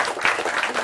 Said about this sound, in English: Give my panel a big round of applause, please.